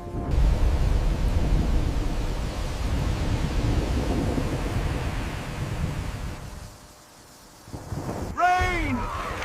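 A heavy storm in an animated story of Noah's flood roars with wind and rain, a dense rumbling wash that fades to quiet before a loud burst returns at the end.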